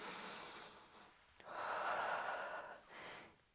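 Slow, deep breaths during a Pilates mat workout: two long airy exhalations, the first swelling strongly, the second shorter and softer, quiet and close with no talking.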